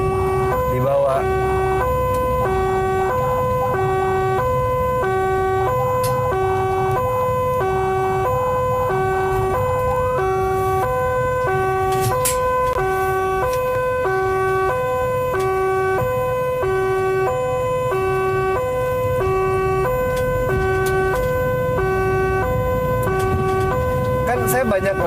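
An ambulance siren heard from inside the moving vehicle, a loud, steady cycling wail that runs the whole time over a low engine and road rumble.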